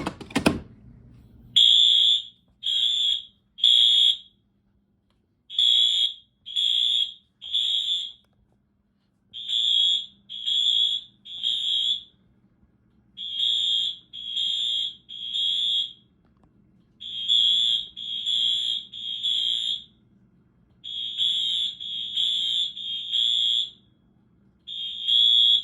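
A Wheelock fire alarm system, triggered from a Simplex pull station, sounds in loud repeating bursts of high electronic tones in a steady temporal pattern, following a sharp clunk as the station is pulled; close and continuous.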